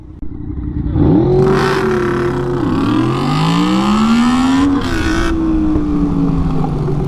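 A Honda VFR 750F motorcycle launches hard from a traffic light beside a car, its engine revving up loud and close through rising gear pulls, with a brief dip between shifts before settling into a steady high drone.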